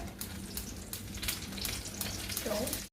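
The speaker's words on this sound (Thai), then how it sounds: "เอาเปิดเอาหมูใส่ ระวังมันกระเด็นใส่ด้วยนะ" Pork hits a hot pan for a stir-fry with glass noodles and cabbage, giving a steady, close sizzle with faint scraping and crackle that runs until it cuts off abruptly.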